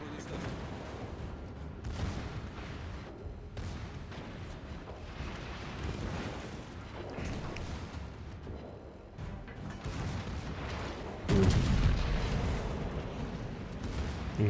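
Heavy naval gun salvos from a Soviet battleship in a warship video game, deep booming shots rolling at intervals amid continuous battle rumble, with one louder blast near the end and faint game voices in the mix.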